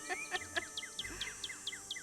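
A red-tailed hawk call plays from a recorded tape in the Nancy Drew: Stay Tuned for Danger game: a quick run of about a dozen sharp, downward-slurring notes in an even rhythm, moderately loud.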